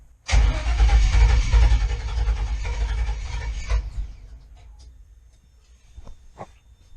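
A car engine fitted with FiTech fuel injection cranks and catches with a loud, rough roar, runs unevenly for a few seconds, then dies away into quiet with a few small clanks afterward.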